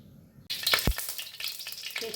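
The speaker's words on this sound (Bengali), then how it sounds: "তেলটা যখন একটু গরম হয়েছে তাতে একটু শুকনো লঙ্কা দিয়ে দিচ্ছি, একটু তেজপাতা দিয়ে দিলাম।" Dried red chillies and bay leaves dropped into hot oil in a pan start frying with a sudden loud hiss and crackle, then settle into a steady sizzle with scattered pops.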